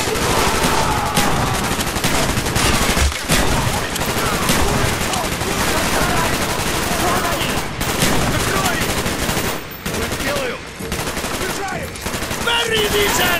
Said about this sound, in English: Shoot the lock, Mason